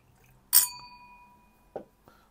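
Glass bottle of Highland Park Cask Strength Batch 3 whisky being opened, one sharp bright clink that rings briefly, then two softer knocks of glass a moment later in a quiet room.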